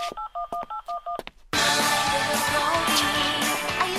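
A phone rings in short, evenly spaced electronic bursts, then cuts to a dense, loud burst of music-like noise for the rest of the clip.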